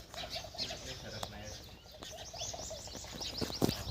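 Pigeons coo and birds chirp softly amid busy background noise, with a brief burst of wing flapping near the end.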